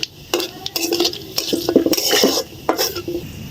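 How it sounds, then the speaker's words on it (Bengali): Black cumin, whole garam masala and dried chillies being fried in a pan for a fish curry, with a utensil clinking and scraping against the pot in short, irregular strokes over a faint sizzle. "ফোড়নটা আমি ভালো করে ভেজে নিচ্ছি।"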